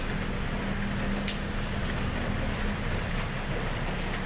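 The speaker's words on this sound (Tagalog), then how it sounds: "Ay nako, hindi na naman tumigil ang ulan." Heavy rain falls at night as a steady, even hiss with no voices, broken by a few faint clicks.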